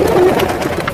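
Pigeons coo at a pet shop in Andheri East, Mumbai, a soft cluster of low throaty coos close by, repeating over steady indoor background noise.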